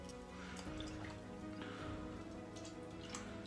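A Feather Adjustable safety razor is warmed in hot water before a shave, with soft, quiet drips and trickles of water going on steadily throughout.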